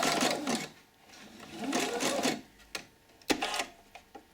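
A sewing machine stitches yarn into a decorative bowl in short bursts of whirring needle action, each pause ending in sharp clicks and knocks from adjusting the work, close up and with no talking.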